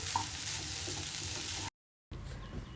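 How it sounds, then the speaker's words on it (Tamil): Cabbage poriyal stir-fried in a pan on high heat gives a steady, close sizzle with faint stirring scrapes, broken by a short silent gap before the frying noise returns. "இப்போ ஹை ஸ்பீடில் வச்சுக்கோங்க ஹை ஸ்பீடில் வச்சுட்டு நல்லா கிளறி கொடுத்துட்டு ஸ்டவ் வந்து ஆஃப் பண்ணிக்கலாம்"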